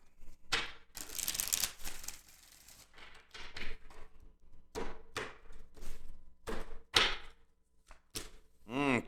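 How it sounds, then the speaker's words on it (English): Tarot cards riffled and shuffled by hand in a few separate bursts, with sharp slapping and flicking sounds close by, broken by brief pauses and soft thumps. "Let's get 3 shuffles here."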